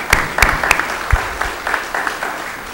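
Scattered hand claps at a commission meeting, a few sharp isolated claps followed by a thin, uneven patter from a small group, brief and moderately near.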